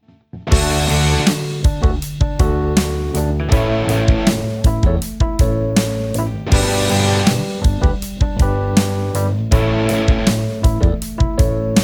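A strummed guitar groove with distorted chords, steady repeated strums in a rock rhythm, loud and close, no voices.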